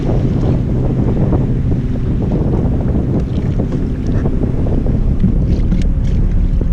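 A loud, continuous rumble of a motorboat passing close by on Falls Lake, North Carolina, during a kayak fishing tournament, with heavy wind buffeting the microphone, the engine drone staying close throughout.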